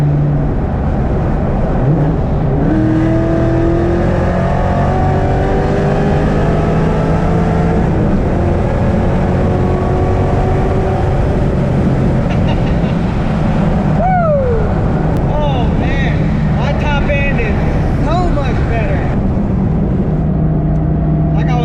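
An SVT Terminator Cobra muscle car engine with upgraded headers idles with a deep, throaty rumble, then revs hard several times, the pitch sweeping up and dropping back near the end.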